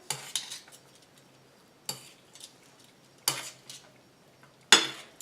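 Liver and garlic are tossed in a pan, giving four separate bright metallic scrapes and clatters spaced a second or so apart over a quiet background.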